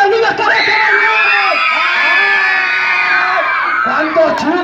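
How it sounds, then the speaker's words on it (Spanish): A large crowd of children screams and shouts together on cue at a Children's Day celebration, a loud sustained roar lasting several seconds before trailing off into scattered voices. "Ahora sí, un grito a todos los niños que no se bañaron."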